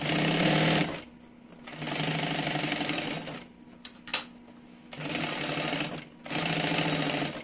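Sewing machine running in bursts as it stitches EVA foam and fabric lining of a mini 2-in-1 backpack, three loud sustained whirring runs separated by short pauses, close up with no talk.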